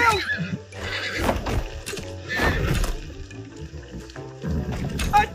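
A horse whinnies loudly in a video game, with repeated neighs and snorts over several seconds, mixed with hoof clatter and game noise and no clear speech.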